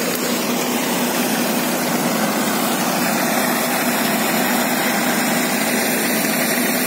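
A Massey Ferguson MF 240 tractor engine runs steadily on a farm during sesame harvesting with a thresher, a continuous loud drone that stays constant throughout with no break.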